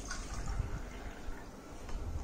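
Water poured into drinking glasses during a soap comparison demonstration, a soft uneven splashing and trickling close by with no one talking.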